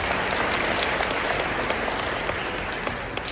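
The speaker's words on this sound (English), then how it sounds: "I'd like to send a big round of applause and a thank you to John Osborne and AdNet Zero" Sustained applause from a keynote audience at a green media summit, a dense, steady clatter of clapping hands filling the room without a break.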